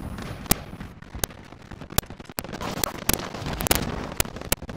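Gunfire in the video game Warzone, sharp isolated shots popping at irregular intervals over a low, busy background.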